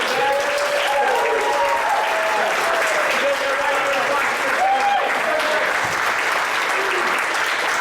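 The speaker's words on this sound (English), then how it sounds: "let's give one more round of applause for our company in the back" Sustained audience applause for an improv company fills the whole stretch, a dense, steady wash of many hands with a few cheers and voices rising over it.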